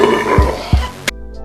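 A deep burp from someone, with two short low gulping bursts before a sharp final release, loud and close against a busy musical background.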